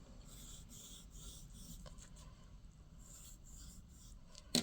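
A pencil scratches and rubs faintly on folded white paper while drawing a small cloud, a quiet continuous scribbling with brief pauses and one sharper tap at the end.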